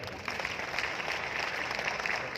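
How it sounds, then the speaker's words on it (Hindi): Steady, dense applause from an audience at an RCM gathering in Bhilwara runs unbroken for the whole stretch, fairly even in strength with no voices rising above it. "जोरदार तालियां"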